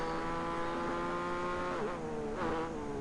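A race car engine drones steadily while the driver, left-foot braking, jabs the throttle, giving two quick rising-and-falling revs near the end of the pass.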